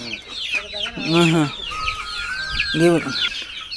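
Hens and fighting roosters cluck and squawk close by, several birds calling in short bursts with a longer drawn-out cackle in the middle.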